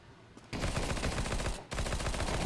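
Rapid automatic gunfire in Counter-Strike 2, two loud sustained bursts of dense rattling shots, the first longer, separated by a brief pause, up close and without speech.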